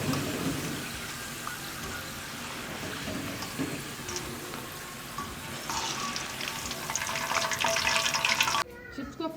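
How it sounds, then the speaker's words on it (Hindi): Potato chips frying in hot oil, a dense continuous crackling sizzle like rain, moderately loud and close, with a brief shift near the end. "इसे ब्राउन होने तक फ्राई करें।"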